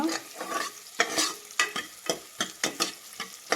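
Onion, green chilli and fenugreek leaves fry in a pan over medium heat for mutton curry, with a steady sizzle broken by sharp, rhythmic scrapes of a spoon stirring them, close and fairly loud, with no talking.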